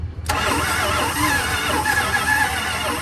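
A 1970 Dodge D100 pickup with a 383 big-block V8 catches and fires up after a brief silence, then roars loudly and steadily at close range, with no voices.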